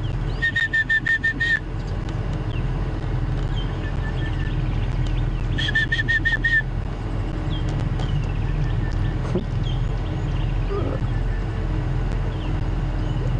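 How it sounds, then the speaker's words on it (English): An orange-breasted (sulphur-breasted) bushshrike calls at dawn on an African safari drive, giving two bursts of repeated whistled notes over a steady low vehicle rumble, with quieter bird sounds between. "It's a orange-breasted bushshrike or sulphur-breasted bushshrike."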